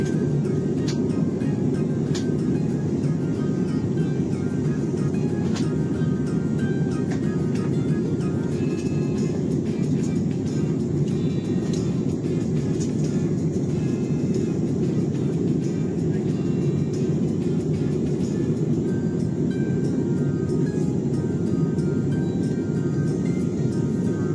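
Inside the cabin of an AirAsia airplane coming in to land, a loud steady engine roar and airflow drone fills the space continuously, with faint clicks and rattles above it and no talking.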